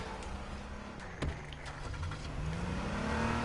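A car engine in the H1Z1 video game revs and accelerates while driving, a mid-pitched motor note that rises toward the end with a brief thump, heard fairly close and alone.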